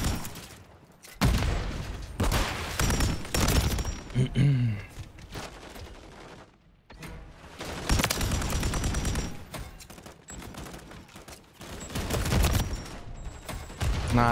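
PULEMYOT 762 machine gun fire in the video game Modern Warfare 3, rapid sustained bursts of shots broken by short pauses, loud and close, with game effects mixed in.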